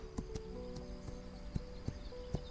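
Clip-clop of a horse's hooves in the video game This Land is My Land, a steady run of evenly spaced thuds over a low continuous game ambience.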